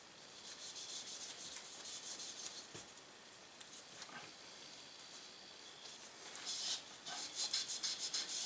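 Cleaning patch scraping back and forth through a rusty octagon barrel of a lever-action rifle, a rough rhythmic rasping close up in repeated strokes, louder bursts near the end.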